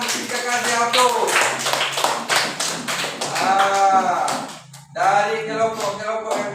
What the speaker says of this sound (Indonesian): Oke, silakan kita kasih aplaus.